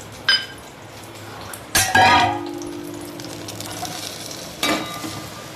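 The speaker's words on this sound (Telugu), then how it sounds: "కొంచెం నెయ్యి వేసేసి ఫ్రై చేసేద్దాం" Grated carrot sizzling in ghee in a pan for carrot halwa, a soft steady fry under a few sharp utensil clinks and stirring scrapes, close by.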